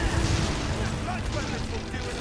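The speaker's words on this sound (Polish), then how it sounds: "Podwójny wybuch!" Double explosion in the Dragon's Dogma video game, a dense rumbling boom with a second burst following, mixed with game noise and a voice talking over it.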